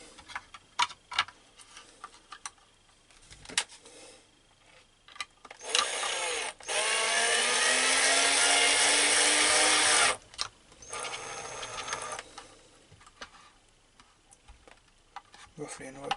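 A power screwdriver drives a longer screw into a 1/400 scale Titanic wreck diorama: one steady whirring run of about four seconds, rising slightly in pitch, between scattered clicks and handling knocks.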